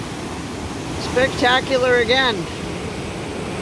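A waterfall at a canoe portage rushes in a steady, broad roar throughout, with someone talking briefly over it.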